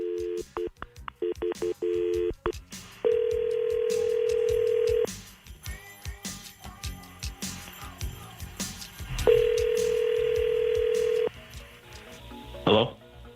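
Tones from an outgoing phone call dial in quick succession, followed by two long, steady ringback tones, each lasting about two seconds, with a short gap between them. Brief clicks and a faint voice come near the end.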